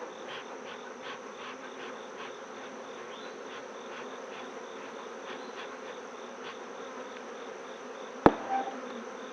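Honeybees drone steadily from an opened, tightly packed hive, a continuous close buzzing hum with individual wingbeats flickering through, and one sharp knock near the end.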